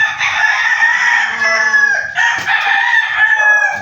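Loud, close rooster crowing at a backyard gamefowl breeder's yard, with lemon and blue-leg gamecocks kept there; two long drawn-out crows follow one another with a brief break between them, and no talk is heard over them.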